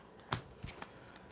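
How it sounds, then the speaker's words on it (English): Tarot cards get a quick shuffle, heard as one sharp riffle burst followed by a couple of lighter slaps and flicks, faint and close in an otherwise quiet room. "I'm gonna do a quick shuffle"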